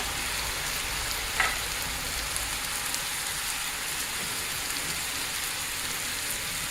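Ground beef with green chilies and their juice sizzles in a skillet, a steady dense frying hiss that stays even throughout, with one small clink early on and no voices.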